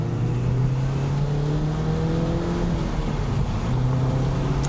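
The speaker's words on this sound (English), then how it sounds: "I absolutely love the way that this car sounds. Really great exhaust." A loud, steady 2014 Mazda Miata engine drone with a throaty exhaust rumble on a track, sustained and close, with no voices.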